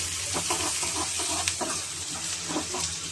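Onions and green chillies frying in a pan for an egg and green pea curry, giving a steady, close sizzle with scattered crackles and a few stirring scrapes throughout.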